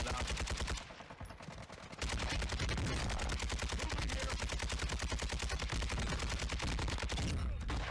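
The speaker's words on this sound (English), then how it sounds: "now he's getting shot through the floor" Rapid automatic gunfire from Call of Duty: Warzone rattles continuously and loudly, with a short break before the shooting resumes and carries on without pause.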